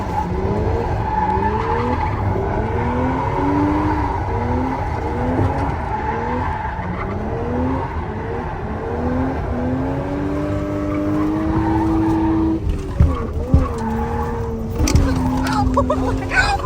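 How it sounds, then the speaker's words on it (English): A Mazda RX-3 launching on a road revs hard in a rapid series of rising engine pulls and shifts, loud and close, then settles into a sustained high drone with some scrabbling tire noise near the end. "Now we're going to go launch the Rx3."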